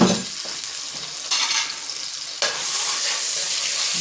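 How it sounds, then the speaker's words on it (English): Leftover peppers and sazon sizzle loudly in a hot pan, a steady close frying hiss broken by bursts as the contents are stirred. "I'm going to stir this up. It's sizzling."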